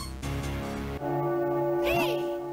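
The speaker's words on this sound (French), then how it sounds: "La cloche a encore sonné." A bell tolls in the video game The Legend of Zelda: The Minish Cap, with sustained ringing tones over game music and a sliding chime near the end.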